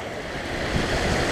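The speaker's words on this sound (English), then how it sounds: "Take a look at this river." A trout-fishing river flows with a steady broadband rush of water, loud and close, with some wind buffeting the microphone.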